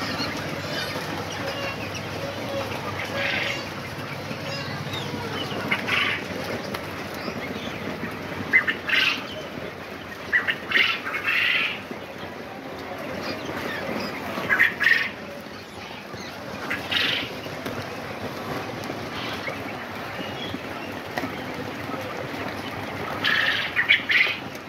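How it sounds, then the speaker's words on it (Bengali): Hungry pet ducks squawk and quack in repeated short bursts while feeding, close by over a busy background of rustling and movement, with brief wing flaps and no talking. "আমার পাখিগুলো খুব ক্ষুধার্ত ছিল, এসে খাবার দাবার থেকে কি সুন্দর করে খাচ্ছে দেখেন"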